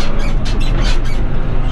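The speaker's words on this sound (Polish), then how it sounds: "Fotel nie piszczał, tak teraz piszczy." A tractor seat squeaks in a few short, high bursts over the steady low rumble of the engine while haylage bales are hauled on a farm.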